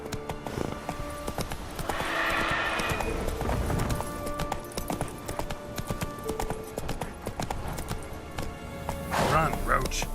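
Steady clip-clop of the horse Roach galloping in The Witcher 3: Wild Hunt, rhythmic hoofbeats running throughout with a snort or whinny near the end and a voice speaking over them.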